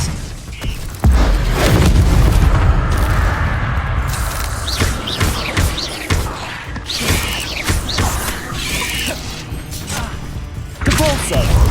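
Spell effects from the Hogwarts Legacy video game as Expelliarmus is cast: loud, booming thumps and crashing impacts repeat in bursts over a dense, continuous game soundscape.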